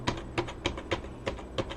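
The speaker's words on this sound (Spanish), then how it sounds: "Todo lo que yo tecleo se refleja en la pantalla." Keystrokes on a computer keyboard while testing a homemade Atmel microcontroller programmer: about eight crisp, evenly spaced taps in under two seconds, close and clear with no talking.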